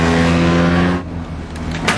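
A Pagani Zonda supercar accelerating hard nearby, its loud engine roar holding strong for about a second and then dropping back to a quieter rumble.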